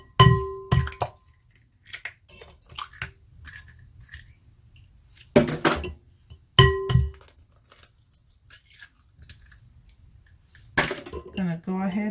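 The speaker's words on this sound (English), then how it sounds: "The next thing is I'm going to go ahead and crack our eggs into a large bowl." Eggs cracked into a large glass bowl for a quinoa breakfast bake, a few sharp clinks and taps of shell on glass in separate bursts with quiet pauses between.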